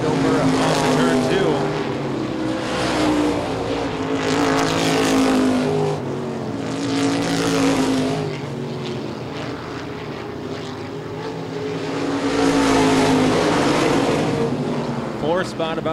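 Modified race cars on the ICAR Top Speed Modified Tour roar around the Baer Field oval, their engines swelling and fading in loud waves as the pack passes, with a race announcer talking over the noise.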